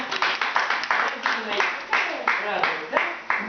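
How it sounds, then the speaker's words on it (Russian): Rhythmic hand clapping from a small group, steady and close, with a voice talking over it. "Аплодисменты"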